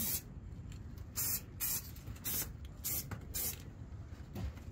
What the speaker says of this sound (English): I'm spray painting inside because it's nasty outside